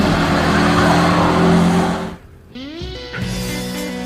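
A 1964 Ford Galaxie 500 XL engine roars loudly at high revs, then drops off briefly before climbing back up through a rising rev sweep and holding a strong, steady drone.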